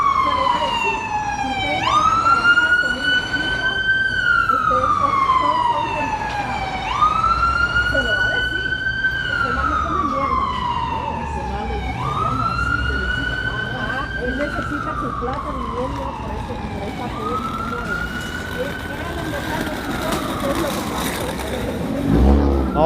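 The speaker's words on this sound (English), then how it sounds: "Let's see how this ambulance makes through traffic." An ambulance siren cuts through Midtown Manhattan traffic in New York City, wailing loudly in about four long rising-and-falling cycles over a steady bed of street and engine noise.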